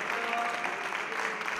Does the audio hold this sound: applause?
yes